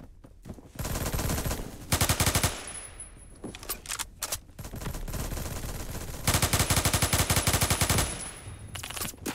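Loud, sustained automatic gunfire laying down suppressing fire in a shooter video game, fired in long rapid bursts with short pauses between them. No one speaks.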